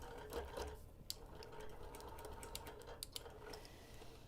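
A quilting machine bastes a quilt with quick, light mechanical stitching and ticking clicks, a soft steady run close by with no voices.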